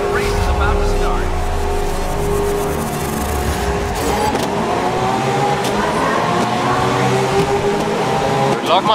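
Race cars in Grid 2019 revving loudly on the grid and pulling away at the start, dense engine roar with rising pitch and occasional tyre squeal, a voice talking over it.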